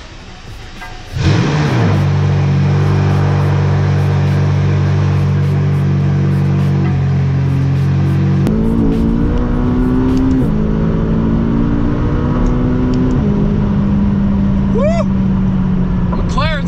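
A Dodge Demon's engine cold-starts with a sharp crank and burst, then settles into a loud, deep, high idle that drops and steps down in pitch, with a few revs and talk in the background.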